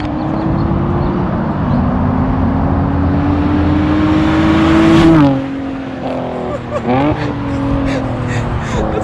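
A BMW 540 E34 engine revs hard and steady through a burnout, its tone holding high then dropping off sharply, followed by uneven blips and a fade; loud and close, with a voice briefly over it.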